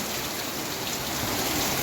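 Heavy unseasonal rain falls outdoors in Odisha, a dense, steady roar of drops hitting surfaces, continuous and fairly loud throughout with no voices.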